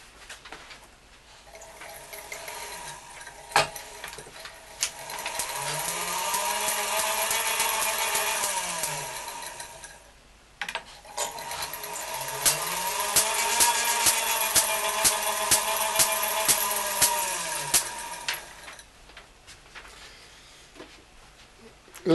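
A Wimshurst machine cranked by hand in two long whirring spells, a mechanical drone rising and falling in pitch, punctuated by sharp crackling snaps of electric sparks between the brass balls, fairly close, no talking.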